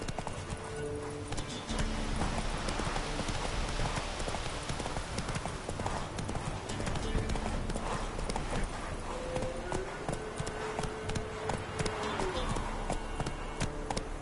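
Steady clip-clop of Roach the horse's hooves in The Witcher, a quick rhythmic trot kept up throughout, with game music and ambient sound layered underneath.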